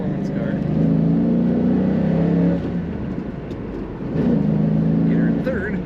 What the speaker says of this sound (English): When you get on the throttle, there is a nice rumble coming out of the tailpipe of this car